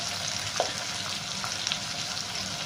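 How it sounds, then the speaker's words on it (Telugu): Ingredients for a spiced buttermilk stew frying in hot oil in a pan, a steady close sizzle with faint crackles throughout, no talking. "ఒక్క నిమిషం ఫ్రై అయితే చాలు"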